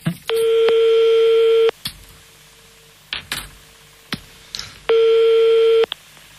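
A telephone call is placed back, and the line gives a steady ringing tone in two long, loud beeps separated by a pause, with handset clicks and small knocks between.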